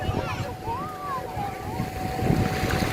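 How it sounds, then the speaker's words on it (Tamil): A motorboat ferry passes out at sea off a beach, heard as a steady low motor drone under wind and surf, with people talking nearby. "ஃபெரி போகுது பாருங்க கடலுக்குள்ள."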